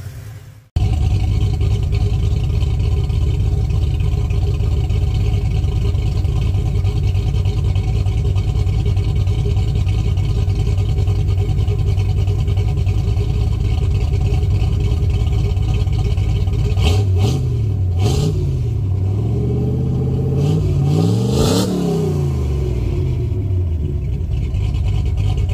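A cammed 1978 Ford F100 engine idles steadily and loudly up close, its low rumble unbroken for the whole stretch, with a few revs and some clatter toward the end; no one speaks.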